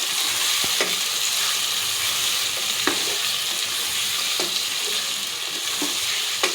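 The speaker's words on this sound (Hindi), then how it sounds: "इसके बाद इसे हिला के हल्की आंच पे कवर कर देंगे" Chicken with garlic and ginger sizzles loudly in a pan for a chicken and green capsicum curry, a dense continuous hiss broken by several sharp scrapes and knocks of stirring, with no talking.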